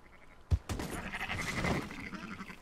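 Sheep bleat in Red Dead Redemption 2, a sharp thump and then a cluster of wavering bleats that swell and overlap at close range, sitting under faint background sound.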